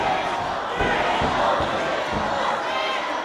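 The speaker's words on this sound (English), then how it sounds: "The crowd trying to give him an extra boost of energy" A wrestling crowd at a televised professional wrestling show cheers and shouts in a continuous roar, with scattered thumps from the ring and commentary talk underneath.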